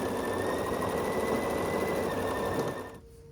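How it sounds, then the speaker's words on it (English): A sewing machine stitches a quilt block with a 1/4 inch seam allowance, running in a steady, continuous hum for nearly three seconds before stopping abruptly and leaving a faint tail. "sew across here with a 1/4 inch seam allowance"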